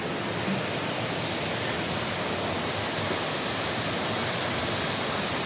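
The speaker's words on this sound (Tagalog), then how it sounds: "Ayan, yung mga waterfalls." Waterfalls at Cat Cat Village in Vietnam give a steady, even rush of falling water that fills the whole stretch without pause or voices.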